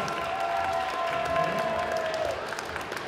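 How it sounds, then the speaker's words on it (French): Audience applause at a solo cosplay contest, a steady wash of clapping mixed with crowd noise, with a sustained tone running through it and some voices underneath. "Applaudissements s'il vous plaît pour Isae en Milou de Genshin Impact."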